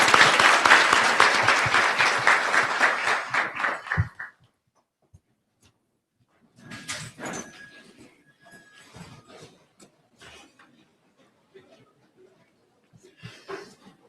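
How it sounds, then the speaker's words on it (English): A commencement ceremony audience claps loudly for about four seconds, the applause fading out and giving way to near silence with scattered faint rustles and small knocks. "Please give them a big round of applause."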